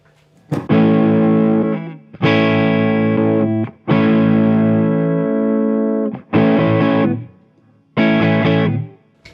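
Loud distorted electric guitar chords through a Boss DS-1 distortion pedal on the neck pickup, five sustained strums each ringing out before stopping, separated by short silences.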